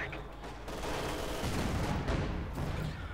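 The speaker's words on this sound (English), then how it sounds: "Got mortar fire going off there on the MB42" Mortar and gunfire in the Company of Heroes 2 strategy game, a dense, loud rumble of overlapping blasts and rattling shots rolling on continuously, with a heavy low boom partway through.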